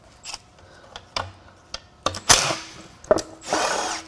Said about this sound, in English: I guess it helps to get all the bolts out.